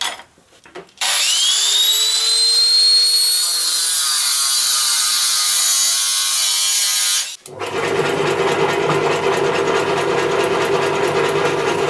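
Bent metal rods for a homemade grip-strength weight rack being cut off with a power tool: a loud, continuous whining cut lasting about six seconds, then a steady rougher mechanical noise, with no talking.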